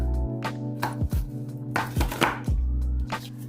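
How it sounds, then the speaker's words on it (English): A knife chops onions repeatedly on a cutting board in uneven strokes, close up, over a steady low hum. "we're going to cut these onions nice and small"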